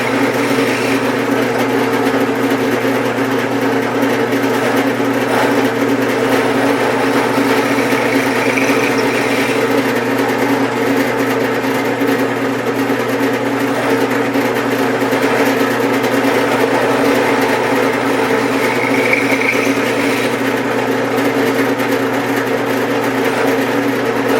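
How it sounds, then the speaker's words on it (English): A motorized drill whines continuously at a steady pitch, running without pause throughout, boring 5/16-inch ferrule holes into a Telecaster guitar body. "now we got to turn it up back around and drill the larger holes for the ferrules"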